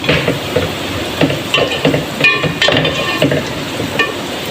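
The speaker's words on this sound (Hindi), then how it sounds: "इसके साथ थोड़ा सा मैं इसको ऊपर नीचे फ्राई करूँगी" Cumin and whole garam masala frying in a pot for masoor dal pulao, a bright close sizzle broken by brisk stirring scrapes and occasional light clinks of the spoon.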